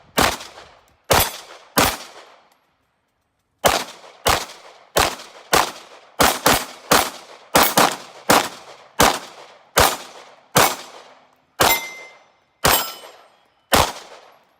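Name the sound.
guns being fired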